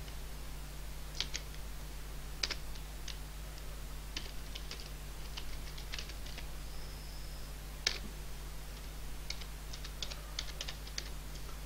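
Typing on a computer keyboard while entering an address in MS Word: irregular clusters of light key clicks over about twelve seconds, close and quiet, against a steady low hum, with no voices.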